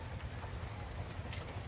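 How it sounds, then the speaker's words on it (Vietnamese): Heavy rain pours steadily during a storm on a fishing boat at sea, a dense, even hiss of falling drops that stays constant and fairly faint throughout. "Mưa gì đâu mà hết biết luôn."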